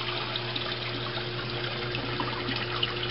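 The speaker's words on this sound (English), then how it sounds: "I'll fire this thing up and we'll run some water down the table." Water from a recirculating tank runs down a Miller table in a steady, unbroken rush, with a low constant hum underneath and no voices.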